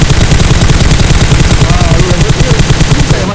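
Sustained automatic gunfire in the video game PUBG Mobile, a loud, fast, even stream of shots lasting the whole stretch, close and dominant, with no voice over it.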